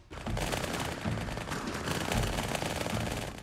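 Dual-wielded automatic weapons from the Halo 2 beta video game fire in one loud, continuous stream of rapid gunfire lasting a few seconds, with no talking.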